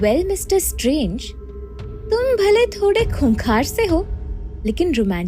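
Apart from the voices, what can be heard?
None of the usual background noises is heard.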